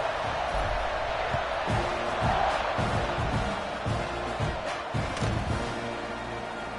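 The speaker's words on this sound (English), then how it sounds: "this crowd now ready to get behind them" A football stadium crowd at kickoff roars, a broad sustained cheer with thumps mixed in, fading slightly toward the end.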